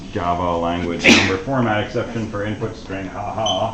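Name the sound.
sneeze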